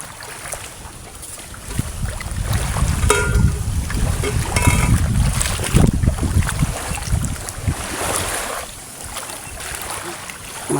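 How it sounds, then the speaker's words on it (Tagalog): A boat at sea near an island runs its engine with a low rumbling drone, heavily mixed with loud wind buffeting the microphone and the wash of waves, swelling and easing over several seconds. "Yan po ang aming bangka, Sergium Adventure."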